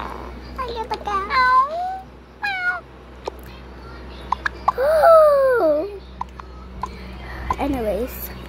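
Cartoon cat meows from a Toca Boca video game, several high, bending meows spaced over several seconds, loud and close, with a child's babbling and chatter between them.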